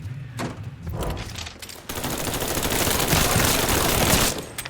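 Gunfire in the video game Mafia III: scattered shots open the sequence, then a dense, continuous burst of rapid automatic fire roars loudly for several seconds with no talk.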